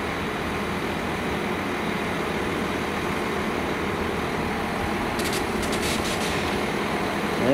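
The Mayflower train departing rumbles heavily and steadily close by, with a brief high metallic squeal partway through and the noise swelling slightly at the end.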